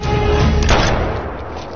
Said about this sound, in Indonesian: tembakan itu meleset